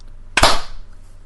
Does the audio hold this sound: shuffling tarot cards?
no